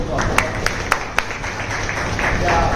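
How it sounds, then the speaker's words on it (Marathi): Scattered applause for guests at a book launch event, a few distinct claps then a soft crowd murmur, with a voice speaking over them in a hall. "त्यांचंही जोरदार टाळ्या होते"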